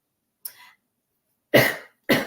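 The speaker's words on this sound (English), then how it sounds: "now I'm gonna cough" Three coughs: a light one, then two heavier, harsh coughs in quick succession, close and loud, with silence between.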